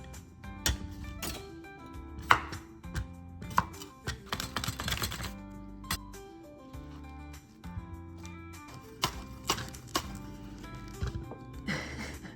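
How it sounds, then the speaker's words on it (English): A knife roughly chops onion greens on a board for a summer salad, with a series of irregular, fairly faint knocks over a tonal background. "So for the onion greens, I'm gonna just do a rough chop with my knife."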